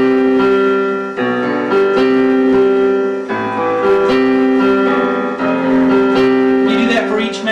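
Piano playing a chorus from a song, with the left hand adding octaves beneath sustained chords and a high G ringing with each C, played steadily and alone.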